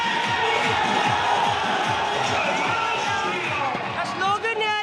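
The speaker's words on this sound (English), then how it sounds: "just hear the chants and the" A large crowd of BJP party workers celebrating an election victory, with rhythmic clapping and loud chanting in a steady beat, plus cheering and shouting, loud and continuous.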